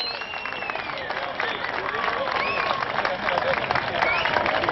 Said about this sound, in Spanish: ven el aplauso para él